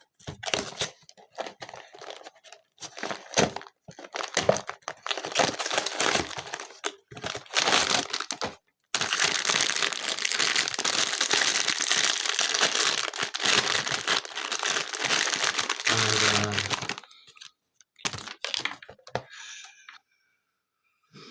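Labubu blind box being opened, with sustained crinkling, crumpling and tearing of plastic and cardboard packaging close up, intermittent early on and then continuous before stopping.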